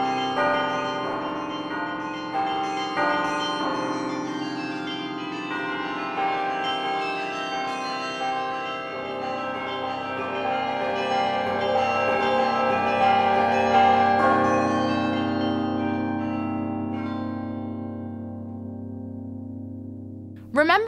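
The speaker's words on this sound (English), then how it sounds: "Let's listen to a musician playing a carillon console in Belgium's St." Carillon bells in St. Rumbold's Cathedral, Belgium, are played from a console, giving a continuous melodic peal of overlapping, ringing tones that sustain and blend, moderately loud and unaccompanied.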